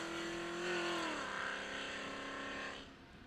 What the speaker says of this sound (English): That car is so loud it sounds like an earthquake driving by.